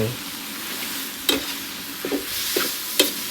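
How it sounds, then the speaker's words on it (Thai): Squid stir-fried with holy basil leaves over medium heat, a steady soft sizzle with a few sharp spatula scrapes and tosses against the pan. "ผัดคลุกเคล้าให้เข้ากัน เป็นอันเรียบร้อย ปลาหมึกผัดกะเพรา"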